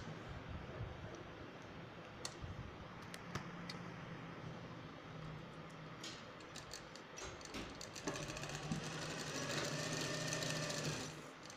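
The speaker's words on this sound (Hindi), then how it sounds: "यहाँ से भी एक सिलाई लगा देंगे हम, ताकि ये बंद हो जाए हमारी पॉकेट यहाँ से।" A sewing machine stitches the pocket of palazzo pants with a quiet, rapid mechanical chatter, running in short bursts that grow busier and louder toward the end.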